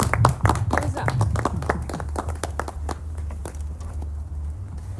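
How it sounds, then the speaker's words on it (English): Audience at a book reading in Seattle clapping, a lively run of sharp handclaps that is dense at first and thins out over several seconds, over a low hum and some talk. "Go ahead, clap it up for her."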